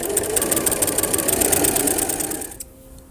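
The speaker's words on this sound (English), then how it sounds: "Place it back under your machine and finish sewing your binding." Sewing machine stitching down quilt binding, a steady fast mechanical whir running continuously close up, then stopping abruptly near the end, leaving quiet room tone.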